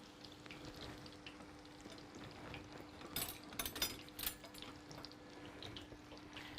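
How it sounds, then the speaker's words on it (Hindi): Chicken steaks fry in oil over a medium-low flame, giving a faint, steady background sizzle with a brief cluster of louder crackles and clatter in the middle. "हमने जो है अपने स्टेक्स फ्राई में ऑयल में डाल दिया है"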